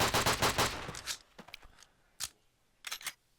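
Rapid bursts of gunfire in a multiplayer shooter played at a Dallas LAN tournament, dense and loud for the first second, then scattered single shots and short volleys trailing off.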